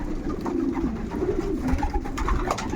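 Pigeons in a loft coo in a continuous low throaty warble, near and steady, with faint shuffling and background hum underneath.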